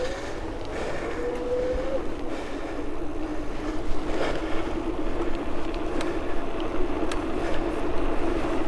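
A DYU T1 electric bike rides fast downhill, with a steady rushing roar of wind and rolling tires throughout and a faint whine rising briefly near the start.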